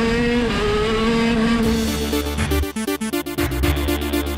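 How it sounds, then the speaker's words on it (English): A KZ shifter kart engine at a kart circuit holds a high, steady buzzing tone, then stutters into rapid choppy revving bursts as the throttle blips, loud and close. "We are going to be driving possibly the quickest thing I'm ever going to be driving, a KZ Shifter Kart."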